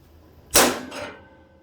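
A hammer strikes a centre punch into metal while a 450cc primary sheave special tool prototype is being made: one sharp, loud close-up blow with a short ringing decay, heard alone against a quiet workshop background.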